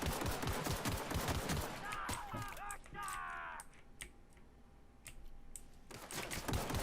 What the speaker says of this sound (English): Let's get a little closer and just start opening fire on these guys.